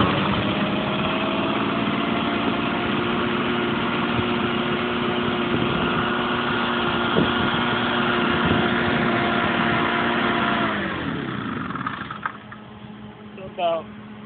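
A Tanaka 505 backpack blower engine runs steadily after a cold start with a close, loud two-stroke drone. Near the end the revs drop away and the engine winds down, followed by a few small clicks and handling noises.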